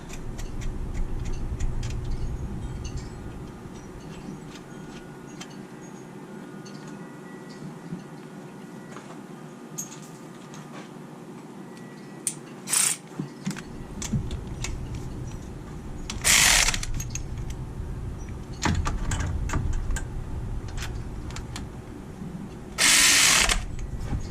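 A ratchet tightens the 13 mm alternator nuts on a 2005-2014 Ford Mustang GT, rapid close clicking in runs, interrupted by a few louder sharp clanks and bursts near the end.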